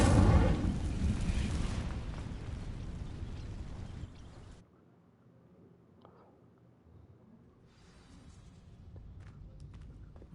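Fire spell igniting dry vines in Hogwarts Legacy: a loud whooshing, roaring burst of flame for about four seconds, then it cuts off to a quiet ambient hum with faint crackles.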